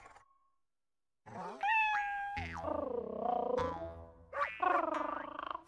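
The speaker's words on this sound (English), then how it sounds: "like the cat jumped out of that painting" A cartoon cat in the video game Okami lets out a series of loud, close meows and yowls, one drawn-out cry followed by several wavering ones, with no talk over them.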